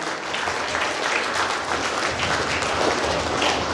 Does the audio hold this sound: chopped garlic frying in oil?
no